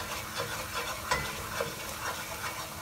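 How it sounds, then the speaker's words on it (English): Vegetable korma sauce with cashew paste is stirred in a pan as it thickens and releases oil. A spoon scrapes and swishes rhythmically through the sauce over a soft, steady sizzle, close and continuous. "So I keep on stirring it for it so that it can leave the oil for it to get thickened."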